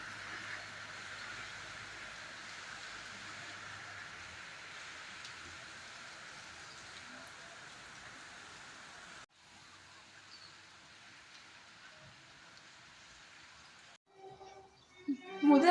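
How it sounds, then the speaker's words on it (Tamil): Rain falls in a steady, hissing wash that goes on for most of the clip, softer after a cut partway through, with faint sounds of movement near the end. "மழை பெய்யுது பாருங்க"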